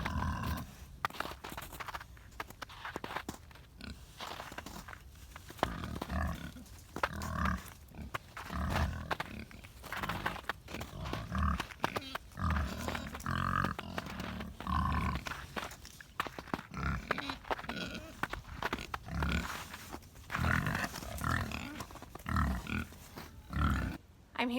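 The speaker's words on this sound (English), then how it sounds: "you will probably hear the pigs behind me" Pigs on a farm grunt and shuffle in a pen nearby, with a steady run of low snorts and movement noises throughout and no talk.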